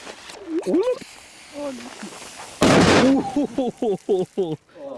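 A Middle Dynamit firecracker going off, a single sharp loud bang heard close midway through, with excited voices talking before and after it.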